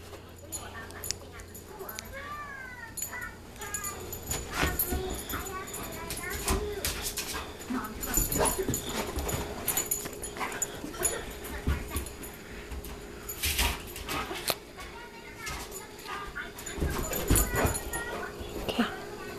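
Sadie the dog whimpers and yips in high, wavering cries while chasing a laser pointer indoors, with scattered thumps and scrabbling and a person talking at times over the noise.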